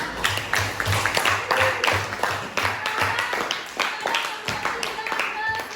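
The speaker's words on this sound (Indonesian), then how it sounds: "tepuk tangan untuk nomor 2" Classmates in a classroom clap for a student, a dense, steady patter of many hands lasting several seconds at moderate loudness, with faint voices underneath.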